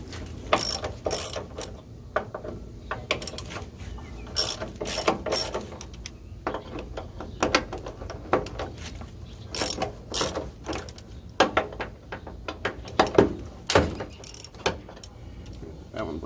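A hand ratchet clicks rapidly while half-inch bolts are loosened on a 1969 Mustang fastback, repeated close bursts of sharp pawl clicks with brief pauses between strokes, no talk over it.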